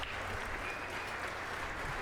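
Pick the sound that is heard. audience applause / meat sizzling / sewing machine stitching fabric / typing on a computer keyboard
audience applause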